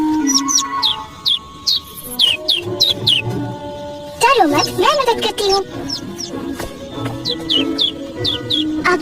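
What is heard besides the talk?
small bird chirping in cartoon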